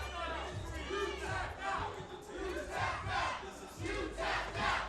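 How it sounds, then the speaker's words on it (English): Wrestling crowd jeering Brian Morris after he tapped out at a live event, a loud, rolling wave of shouting and booing that swells and fades in repeated surges. "you can hear the crowd. They're all over Brian Morris here, letting him know that he tapped out."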